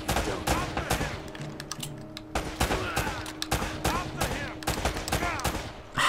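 Rapid gunfire from the video game Uncharted: Drake's Fortune, loud bursts and repeated shots crackling through the whole stretch, with a steady game background hum underneath.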